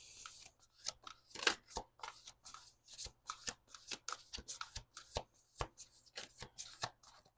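Tarot cards being handled and shuffled, a steady run of crisp riffling flicks and soft slaps close by, with no talk over them.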